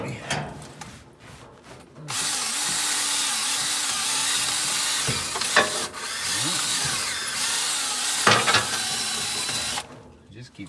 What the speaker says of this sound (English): Oh, we're just doing a little honing.